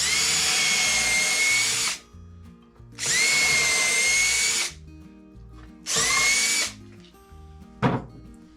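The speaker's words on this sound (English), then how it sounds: "Let's drill a couple of pilot holes here." A power drill whirs in three sustained bursts with short pauses between, loud and close, followed by a brief knock at the end.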